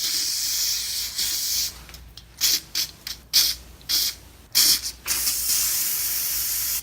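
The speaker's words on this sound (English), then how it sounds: "I'm gonna start by just spraying it down with Lysol." An aerosol can of Lysol disinfectant sprays down a motorized chair in a series of short, close hissing bursts broken by brief pauses, with long sustained sprays at the start and end.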